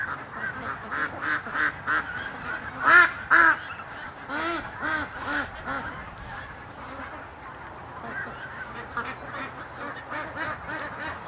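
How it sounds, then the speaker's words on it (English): Ducks leave a shed outdoors and call in a steady stream of overlapping quacks and honks. The calls are moderately near and continue throughout, with a louder burst of calling partway through. "Oh, the ducks are just coming out of the shed now."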